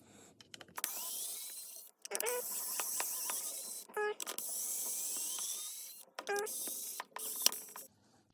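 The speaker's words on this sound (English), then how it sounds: "I'm going to have to go about this the old-fashioned way with a regular old hand crank screwdriver" Screws come out of a PlayStation 2 Model H controller with a hand screwdriver, giving faint, close mechanical clicks and ratcheting scrapes in irregular short runs separated by brief pauses.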